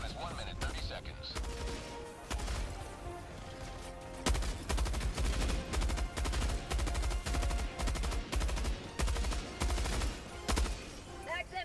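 A Helldivers machine gun fires in sustained automatic bursts, fast and evenly spaced rounds hammering loudly through most of the stretch, with a short pause early on. A voice speaks alongside the firing.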